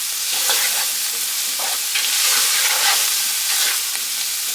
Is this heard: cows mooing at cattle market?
no